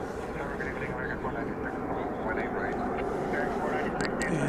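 A British Airways Airbus A380 airliner moves at the airport, giving a broad, steady roar of jet engines that fills the whole stretch. Faint voices can be heard under the engine noise.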